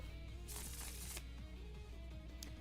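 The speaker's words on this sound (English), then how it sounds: "All right, G Phoenix, tell me when to stop shuffling." A deck of cards is shuffled in a quiet room, a dense burst of riffling flutter for about a second followed by softer scattered card rustles and a brief final snap.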